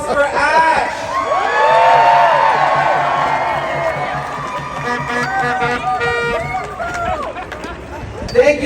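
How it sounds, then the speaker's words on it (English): A protest rally crowd cheers and whoops with scattered clapping, a broad swelling roar of many voices, with shouts and an amplified voice rising over the din near the end. "Let's hear another round of applause for Ash."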